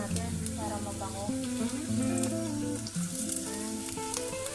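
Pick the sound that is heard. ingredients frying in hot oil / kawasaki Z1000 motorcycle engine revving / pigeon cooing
ingredients frying in hot oil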